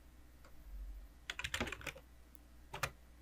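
Quick keystrokes on a computer keyboard while a password is entered, a few scattered taps followed by a dense burst of clicks and a final short cluster, close and fairly quiet with no talking.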